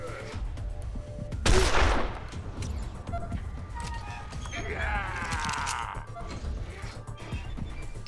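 Gunfire from the video game Wasteland 2: a single loud burst near the start, followed by quieter game sounds and a rising electronic sweep in the background.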